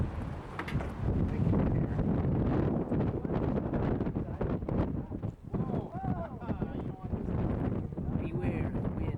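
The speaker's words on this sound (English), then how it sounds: "Beware, wind." Wind buffets a microphone outdoors during a TV production shoot, a steady low rumble filling the whole stretch with gusty surges, while people talk over it.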